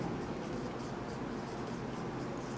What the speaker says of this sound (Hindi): रेड मार्क से लिख रहे हैं